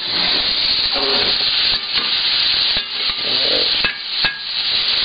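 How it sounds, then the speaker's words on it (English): Loud, steady sizzling and hissing of burger patties frying in a hot pan, with a few scrapes and clinks of a utensil. "you want to hear the sizzle"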